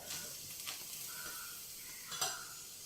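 Oil heating in a pan before ridge gourd peels go in for chutney, giving a faint, steady hiss with a few soft stirring scrapes and clinks, quiet and close with no talking.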